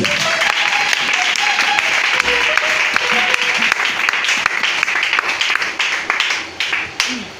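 Church congregation applauding and cheering for the Lord, a dense steady wash of clapping and voices throughout, loud and close, with musical tones and a voice threading underneath.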